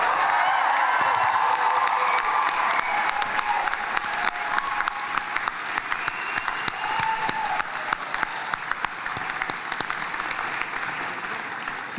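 A graduating class at a university convocation ceremony bursts into loud, sustained applause and cheering, a dense wall of clapping with scattered whoops that holds for the full length and fades only slightly near the end.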